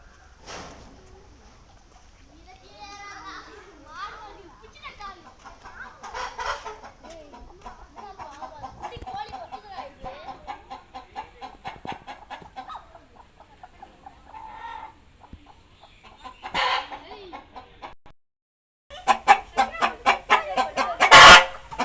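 Chickens clucking inside a farm chicken house, a busy mix of close, overlapping clucks and squawks that swell into louder bursts near the end.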